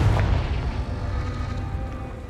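Confringo explosive spell blast in Hogwarts Legacy, a single loud booming burst with a deep rumbling low end that rolls on for a couple of seconds.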